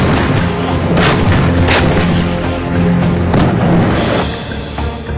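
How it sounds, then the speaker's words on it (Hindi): A Bofors artillery gun fires in heavy, booming bursts that crowd one another across a loud, dense roar with no pauses between them. "ये तोप टारगेट को लॉक कर उसे नेस्तनाबूद करने में माहिर है।"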